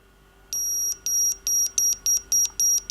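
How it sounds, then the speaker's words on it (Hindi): Multimeter continuity buzzer played back through a smartphone loudspeaker: a rapid series of about ten sharp, piercing high beeps in an even pulsing rhythm, loud and close against a faint steady hum, with no talking. "आपको बीप सुनाई दे जाए तो इसका मतलब है कि स्पीकर ठीक है"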